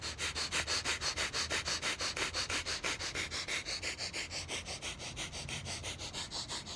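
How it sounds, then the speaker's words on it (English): Breath of fire breathing exercise: rapid, rhythmic forceful exhalations through the nose with abdominal pumping, loud and close, evenly paced pulses continuing throughout without talk. "Pumping the abdomen, pumping the air, getting full oxygenation."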